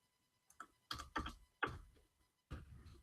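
Computer keyboard keys typed in short clustered bursts during a game jam livestream, a handful of close, moderately loud clicks separated by brief pauses, with no talking.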